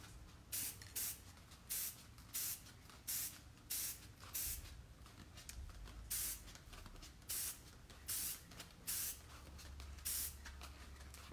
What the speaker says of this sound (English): I spray like the bottom first.